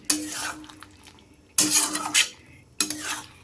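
Ghee being stirred into a vegetarian cauliflower curry in a pot, with three bursts of scraping and clinking of a spoon against metal, separated by short pauses, close and fairly loud.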